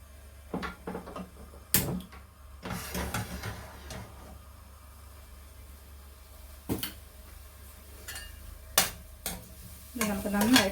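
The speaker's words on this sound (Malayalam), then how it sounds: "നമുക്ക് നന്നായിട്ടൊന്ന് വറുത്ത് കൊടുക്കാം" Grated coconut fries in a tablespoon of ghee for sweet beaten rice flakes, giving a quiet, low sizzle broken by a few sharp spoon scrapes and knocks on the pan, with no talk.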